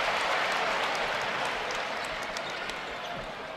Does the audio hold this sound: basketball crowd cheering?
yes